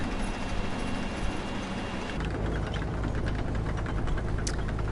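The engine of a Japanese Bulldog-variant tank in a video game, a gasoline V12, runs loud and steady with a continuous rumbling drone that shifts in pitch partway through.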